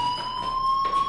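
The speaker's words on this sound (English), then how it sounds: "Hey, do you hear that fire alarm? That means you should be outside." A fire alarm in the video game Life is Strange sounds as a steady, piercing electronic tone, constant and fairly loud over a noisy background with no voices.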